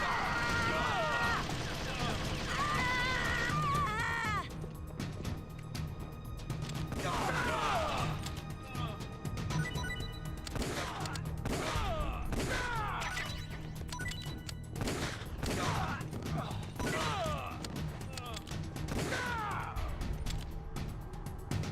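Gunshots and impacts in the stealth video game Metal Gear Solid: The Twin Snakes, a run of sharp bursts repeating every second or two under game music and spoken dialogue.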